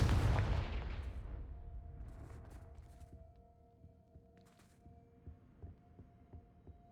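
A Confringo fire spell blasts in Hogwarts Legacy: a heavy booming explosion at the start that rolls off and decays over a few seconds, followed by a faint hum and scattered soft clicks and thuds, no talk.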